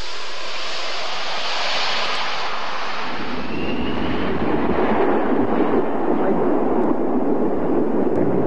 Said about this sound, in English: First, it had to make a flypast for the world's press.